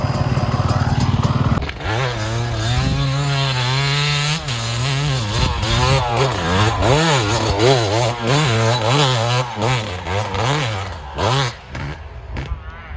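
A motorcycle revs and rides on a very wet, sticky sand track for a beach race at Le Touquet, its engine note loud and close, rising and falling in pitch through repeated throttle changes with no talk.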